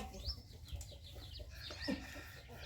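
Chickens cluck and call at a rural Thai home, with short, faint clucks scattered over a couple of seconds against soft background noise.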